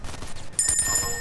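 Gunfire in the Fortnite video game, a burst of shots with sharp ringing tones over game noise, fairly loud and alone without talk.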